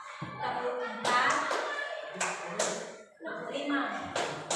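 Children in a classroom clap their hands in short counted bursts, sharp claps separated by pauses, heard close under a teacher's chanted counting and children's voices.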